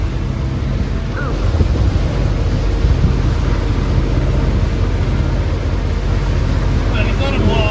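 Strong 27-knot wind blowing over a boat at sea, a loud constant roar and rumble of wind buffeting with water noise, and a voice speaks briefly.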